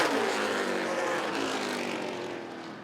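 Super late model race cars roaring past at Rockford Speedway during the final laps of a feature race, a loud sustained engine drone that slowly fades.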